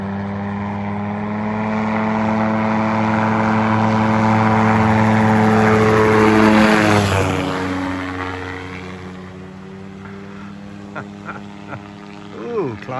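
A small autogyro's engine and propeller drone steadily, swelling louder then easing off, with faint voices toward the end.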